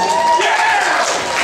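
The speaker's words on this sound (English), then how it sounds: "Let's give them a round of applause." A crowd applauds fans at a punk gig, giving a dense burst of clapping and cheering that fills the whole short moment and tapers slightly toward the end.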